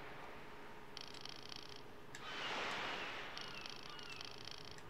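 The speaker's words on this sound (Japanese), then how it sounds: "猫でかくない？" A cat purrs softly and steadily in a sea fishing video game, a low continuous rumble under faint game sounds and intermittent bright electronic tones.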